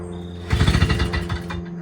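A Kohler Courage small engine, choked and primed, is pull-started: a rapid burst of rough mechanical rattling and chugging from the recoil pull, near and fairly loud, that fades out without the engine catching.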